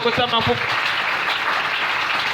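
A church congregation applauding and acclaiming, a burst of voices and clapping that swells after a brief spoken phrase and holds steady to the end.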